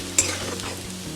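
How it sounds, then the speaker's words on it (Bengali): Sliced onions frying with almonds and cashews in a pan for chicken korma, a brief close sizzle with a faint stirring tap, no voices. "পেঁয়াজের সঙ্গে ভালো করে আমি ভেজে দেব"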